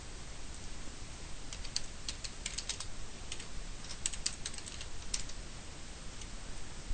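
Steady typing on a computer keyboard while a caption is entered in a GUI designer, with light, irregular key clicks close up over a soft background hiss.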